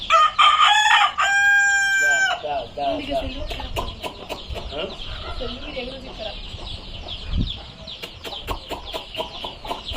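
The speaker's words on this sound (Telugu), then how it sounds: "ఆ కోళ్ళన్నీ వస్తున్నాయి కదా." Country chickens cluck and a rooster crows loudly near the start, with bursts of clucking continuing at a farmyard home in rural Telangana, while people talk in the background.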